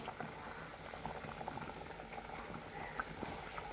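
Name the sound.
fish curry boiling in a pot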